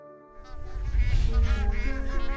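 A flock of geese honks in flight on a long migration over high mountain passes, many overlapping calls building from faint to loud and continuous, with a low wing and wind rumble beneath and no speech.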